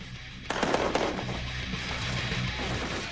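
Mortar fire on a hillside battlefield in the Korean War, a sudden loud burst of crackling blasts and rumbling explosions that settles into a sustained roar of distant detonations.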